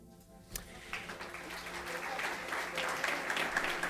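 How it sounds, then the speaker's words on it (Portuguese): A church congregation applauds during a Sunday celebration service in Cascais, a steady wash of clapping that builds after a sharp opening hit and continues alone for several seconds. "Quem crê nessa palavra, aplaude ao Senhor."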